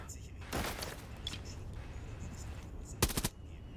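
Gunfire in a first-person shooter video game: a short burst of rapid shots near the start, quieter background game sound, then a sharp loud burst of automatic fire near the end, with a voice talking faintly underneath.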